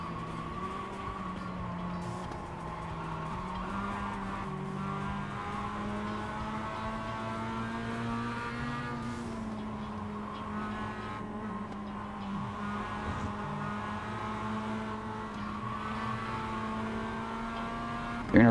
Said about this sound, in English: We're able to actually shift up into 5th gear.